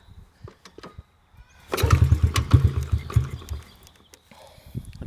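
An old dirt bike, sitting unused for over five years, is kicked over and its engine catches, running loud and rough with an uneven burbling idle for a few seconds before fading to quiet, after a few faint clicks and knocks.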